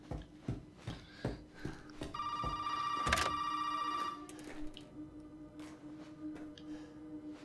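An in-game telephone rings in Resident Evil VII, a bright electronic trill sounding for about two seconds amid sparse thuds and clicks in a quiet, tense room.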